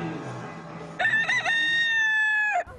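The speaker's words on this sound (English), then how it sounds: "The ever-present roosters of Key West made sure I made the most of my last few hours here." A rooster in Key West crows once, nearby and loud, a long drawn-out cock-a-doodle-doo that rises and holds before breaking off, following a few seconds of quieter background murmur.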